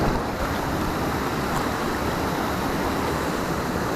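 A small waterfall in a quiet, unspoiled forest setting with a nearby hidden cave, producing a steady, dense rush of falling and flowing water, close and continuous with no talking.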